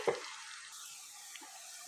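Onions fry in hot oil with a soft, steady sizzle and a faint stirring scrape at the start, quiet and close.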